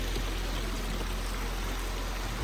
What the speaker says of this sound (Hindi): ये देखिए हमारा झरना, छोटा प्राइवेट झरना